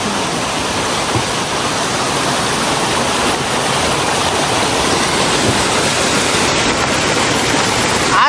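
Water pours steadily from a drinking-water spring source in Lamjung, Nepal, a loud, unbroken rushing wash with no pauses.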